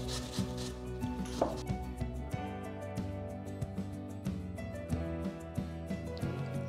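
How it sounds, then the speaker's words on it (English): An apple being grated by hand on a grater makes close, rhythmic scraping strokes that repeat steadily over a faint tonal background. "So I have grated the apple, the carrot and the cucumber."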